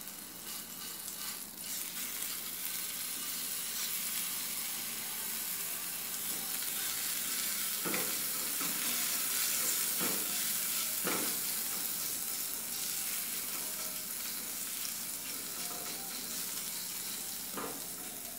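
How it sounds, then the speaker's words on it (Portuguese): A garlic clove frying in a pan as the first step of a cherry tomato sauce gives a steady, close sizzle throughout, broken by a few soft stirring scrapes. "agora eu vou colocar aquele dente de alho"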